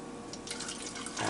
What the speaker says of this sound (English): Now, we do want to pour this a little slowly,